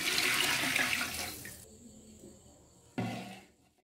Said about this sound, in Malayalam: ഇനി നമുക്കിതിലോട്ട് വെള്ളം ആഡ് ചെയ്ത് കൊടുക്കാം